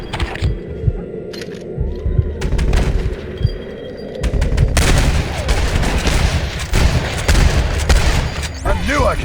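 Gunfire in the PC remaster of Red Dead Redemption: scattered shots at first, then heavy, sustained volleys and booms at close range, mixed with shouting voices.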